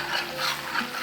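Spice masala for jackfruit curry being stir-fried, a brief, steady, close sizzle with soft stirring, no voices.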